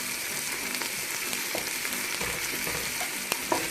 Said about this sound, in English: Let's stir the onion and garlic.